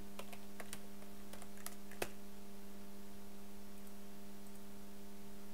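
Light typing on a computer keyboard, a few scattered key clicks early on, including one sharper tap, then near silence over a steady electrical hum; quiet and close with no voices.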